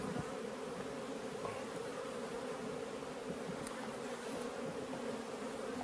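Honey bees swarm around an opened hive during an unwrapping and splitting inspection, a dense continuous buzzing hum that stays loud and even throughout with no voices.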